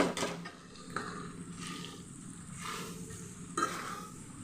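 Stick and chopstick noodles get stirred in a pan as a beef pasta chowmein cooks, with soft sizzling, a few scrapes and light clinks, fairly quiet and close.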